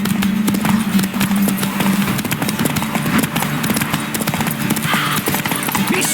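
Horse galloping in The Witcher 3, a rapid rhythmic clip-clop of hooves pounding steadily throughout, loud and close, with a brief whinny and background game sounds.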